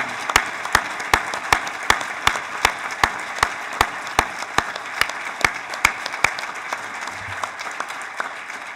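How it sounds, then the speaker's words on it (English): Steady applause from a large audience at a U.S. Naval War College graduation ceremony for the March 2016 graduates, with a sharp, regular rhythmic clap standing out over the continuous crowd clapping throughout. "please join me in signaling our appreciation and congratulations with your applause"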